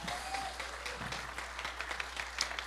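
An audience at a bolero bohemia show applauds for the singer, a soft, scattered patter of clapping heard fairly faint and steady throughout.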